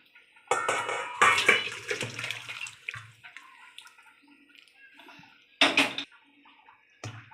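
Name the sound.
pouring out fish and potato curry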